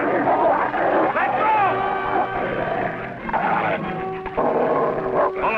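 A dog barks and yips repeatedly in short bursts amid excited shouting voices, with an outdoor western ranch setting and some background commotion.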